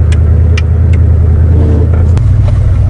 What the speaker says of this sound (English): I think the muffler broke when we were driving. Now it's loud.